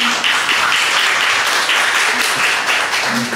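An audience at a basic-income policy forum at the National Assembly Library applauds to welcome a speaker, a dense, even round of clapping filling the room for several seconds.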